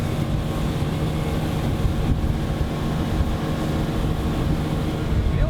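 A continuous outboard motor drone from a large Lund boat mixed with rushing water and wind buffeting the microphone, steady and unbroken, with no talking.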